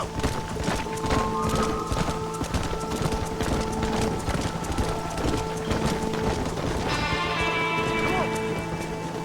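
Horses stampeding in the Red Dead Redemption video game, a dense, continuous rumble of galloping hooves and clip-clop under tonal game music, with occasional whinnies and a brighter surge near the end.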